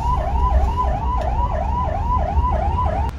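A bus siren on a long-distance seater bus from Delhi to Kathmandu wails, cycling up and down in a steady, rapid rhythm, loud and close, with engine rumble underneath.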